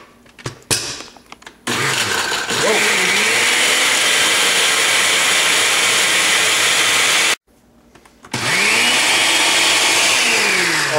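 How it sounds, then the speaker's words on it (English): A blender grinds a cayenne pepper spice mix into powder, running loud and steady for several seconds, stopping briefly, then roaring up again; no talking over the motor. "so we're going to whack this in the blender"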